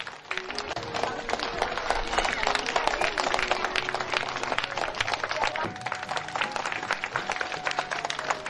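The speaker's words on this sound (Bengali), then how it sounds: "জোরে হাততালি হবে" An audience at a school and college event in Rangpur claps in a dense, steady wash of applause, with someone speaking over it through most of the stretch.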